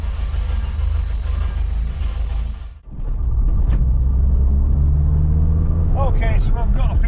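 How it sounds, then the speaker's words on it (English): Worn thrust bearing and gearbox on a Vauxhall Nova 2.0 F16 make a loud, steady mechanical rumble and whine, with a short dip near the middle before the droning noise returns; a voice speaks faintly over the end. "the noises from the thrust bearing and the gearbox are getting worse"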